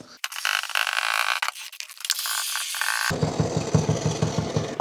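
A polyurethane foam gun taps rapidly against a window frame, mixed with rustling and handling noise, then a steady rhythmic knocking that continues to the end.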